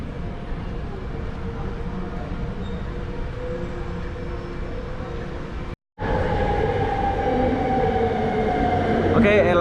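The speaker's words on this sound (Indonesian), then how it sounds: "Oke, LRT yang kita tunggu sudah sampai." A yellow LRT train on the Kelana Jaya line pulls into KL Sentral station, giving a steady rumble with some screeching of the wheels and a brief cut partway through.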